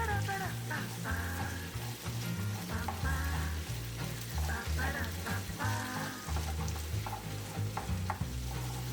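Meat with melting cheese is stirred in a frying pan for a Californian sandwich, giving a steady close sizzle with soft utensil scrapes over a low droning background.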